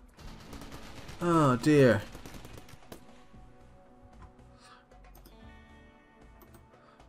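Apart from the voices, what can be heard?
gunfire between fighters in the video game RimWorld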